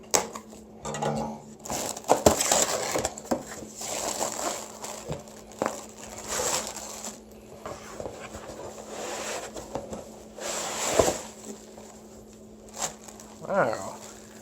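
A cardboard shipping box being pulled open by its built-in tabs, producing close crinkling, tearing and scraping cardboard noises in irregular bursts, with occasional faint voice.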